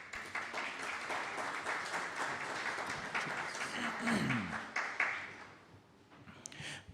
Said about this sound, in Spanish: Pido un aplauso para recibirlo.